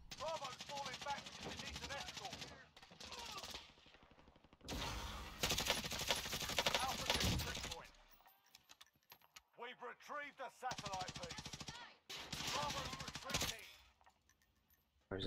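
Sniper fire in a Call of Duty Warzone match: sharp, loud gunshot bursts and crackling gunfire, broken by quiet gaps, with players talking over the action.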